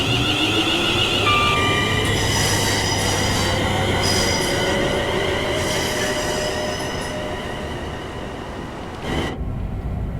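A continuous electric train hum with rising motor whine and faint wheel squeal, loud and steady, fading slightly before a brief burst near the end, from a ScotRail Class 380 in Train Sim World.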